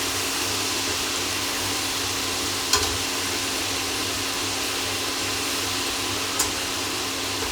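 Pork ribs frying in hot oil for salt and pepper ribs, a steady broadband sizzle holding at an even level throughout, with two brief sharp pops spaced a few seconds apart and no talking.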